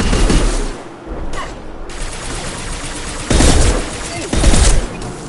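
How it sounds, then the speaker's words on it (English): Heavy gunfire in the video game Mass Effect 2, dense and loud, with a sustained rattling barrage that swells into two louder bursts near the end, mixed with game sounds and faint speech. "Taking heavy fire."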